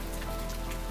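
Rain falling during a storm, a steady, dense hiss of drops striking surfaces, continuous and even throughout with no voices.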